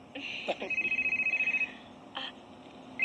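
A phone rings with an electronic ringtone, a rapid trilling pattern, fairly close, with brief voices around it.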